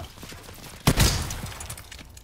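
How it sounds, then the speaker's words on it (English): Shotgun blast in the Call of Duty: World War 2 video game, a single loud, booming shot with a long rumbling decay, heard over background game noise. "Okay, this is a shotgun."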